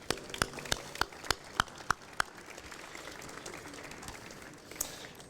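Applause for participants at the 2012 MIT New Venture Competition, with a few sharp, evenly spaced claps at the start over a soft crowd clatter that thins out quickly.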